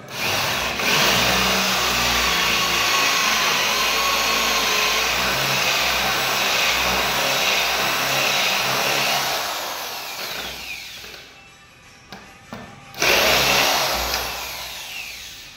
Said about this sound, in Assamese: 35 mm বিটত মই এনেকৈ ফুটা কৰিম।